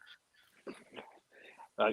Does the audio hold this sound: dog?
yes